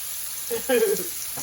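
Flour-dredged steak hits an old non-stick skillet with a close, crackling sizzle that swells in short bursts over a quiet background.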